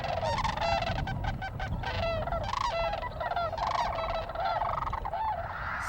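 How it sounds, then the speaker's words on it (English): Snow geese honk loudly and continuously, many overlapping calls from a large flock close by at a wildlife refuge, with no voices. "Similar with the snow geese, they're very vocal animals."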